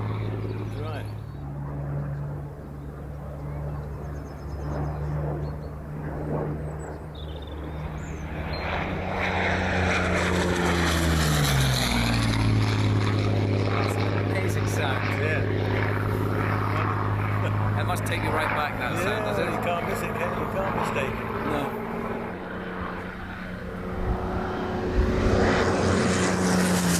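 A Hawker Hurricane fighter, a Battle of Britain survivor still flying, drones in from a distance, its propeller engine swelling to a loud roar as it passes overhead and its pitch dropping as it goes, with a voice audible over the approach.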